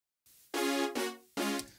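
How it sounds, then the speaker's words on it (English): Synth brass with a touch of EQ and reverb plays three bright, buzzy sustained stabs in quick succession, the first two run together and the third after a short gap, close and alone. "We have this synth brass I showed you in another video."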